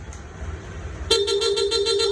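After a moment of low idle rumble, a Toyota Supra's stock car horn starts honking in a series of short, rapid bursts, close and fairly loud.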